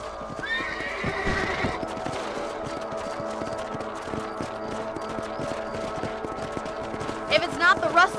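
A horse in Red Dead Redemption whinnies loudly at the start, then its hooves clip-clop steadily through the scene, with another short neigh near the end under game music.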